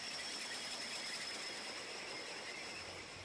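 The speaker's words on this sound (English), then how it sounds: "2 excavating chains go into action. The first chain removes the reusable upper layer of ballast." A Plasser & Theurer railway rehabilitation machine runs its excavating chains to strip ballast from the track, a continuous, even mechanical roar with a steady high whine, distant and faint.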